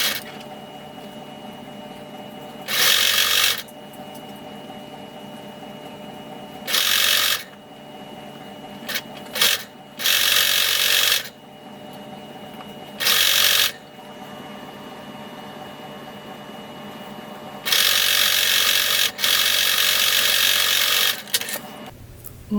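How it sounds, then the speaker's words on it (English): Sewing machine stitching the seam of a cloak in several separate bursts of steady motor whirring, each a few seconds long with quiet pauses between, the last run longest. "You're going to sew this seam with a 3/8 inch seam allowance, and you are going to backstitch when you start and when you stop."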